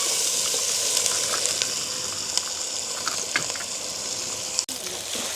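Small shallots and green chilies stir-fried in a pan for a squid dish, sizzling steadily throughout with occasional light scrapes and taps of a spoon.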